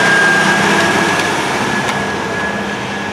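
Three tandem rigs, each a Case tractor pulling two dirt scrapers, produce a loud, steady engine roar with a broad rumbling wash of noise, slightly easing off over a few seconds and carrying no voices.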